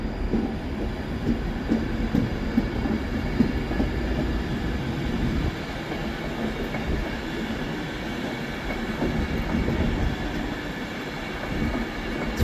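Class 390 unit 390016, running Glasgow Central to London Euston, passes at Carlisle with a steady, close rolling rumble and wheel noise that holds evenly throughout.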